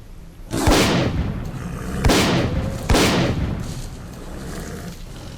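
Shotgun blasts in S.T.A.L.K.E.R. Clear Sky: three loud, booming shots spaced about a second apart, each followed by a short decaying tail, with no talking.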